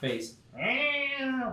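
A voice imitates a cat's meow, one drawn-out wavering mew sung near the mic, just after a brief bit of speech in a role-playing game session.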